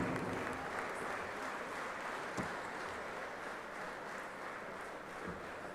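Sustained audience applause at a closing ceremony of the All India Prison Duty Meet, welcoming the Governor; a steady, dense wash of clapping from a large crowd holds throughout without a break.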